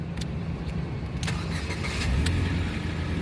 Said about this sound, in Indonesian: Sekarang kita coba saja start mobil ya.